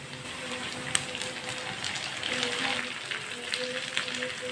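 Chopped tomato and halved green chillies frying with onions in a pan, a steady soft sizzle with gentle stirring noises, close and continuous, with faint background sounds.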